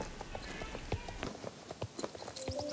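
Horse hooves clip-clop in quick rhythmic beats as a horse gallops during a race in the video game Star Stable Online, with light game effects around them.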